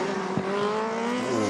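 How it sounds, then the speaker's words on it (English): Yamaha and Ducati racing motorcycles bellow at high revs on a track, a continuous loud, close engine roar with steady pitch and no talking. "listen to those two bellowing engines. The Yamaha versus the Vision Track Ducati"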